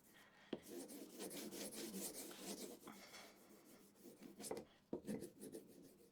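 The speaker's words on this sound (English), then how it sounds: "So we're just going to charge our strop with this before we do a quick bit of sharpening." Polishing compound is rubbed onto a leather strop at a sharpening bench, a soft, close rasping scrub in repeated strokes with a couple of sharper knocks, fairly quiet.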